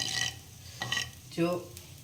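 A spoon scrapes and stirs as foam is skimmed off lentils cooking in a pot in a home kitchen, a few short scraping strokes with quiet gaps between them.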